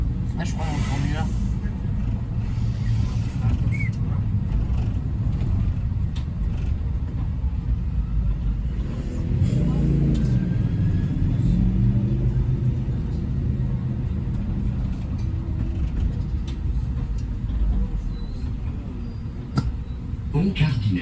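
A Paris city bus drives through narrow streets, giving a continuous low engine rumble and road noise with voices talking over it throughout.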